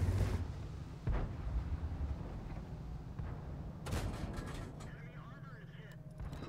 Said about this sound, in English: See how the KV-1 is just in there shooting and you're just rocking back and forth?